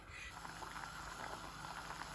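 Rice boils fully in a pot of starchy water, a steady close bubbling and simmering hiss that runs throughout without pause.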